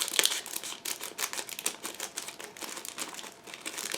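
A plastic bag from a 1/35 scale IBG Models Rosomak APC kit being opened, with close, rapid crinkling and rustling bursts that continue for a few seconds with no talking.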